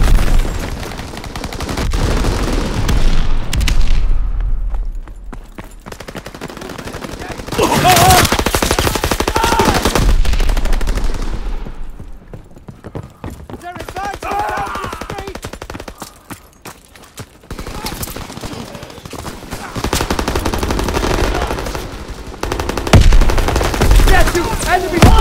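Enemy gunfire in Call of Duty: WWII, with loud bursts of machine-gun fire and scattered shots coming in repeated volleys across the whole stretch, sometimes nearer and heavier, sometimes thinner, with occasional booms.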